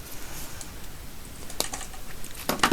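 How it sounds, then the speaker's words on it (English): Wire cutters snip off the excess end of a wrapped wire on a handmade wire-wrapped pendant: two or three sharp close clicks with small handling rustles in between, the last burst loudest. "Let's just trim that bit off"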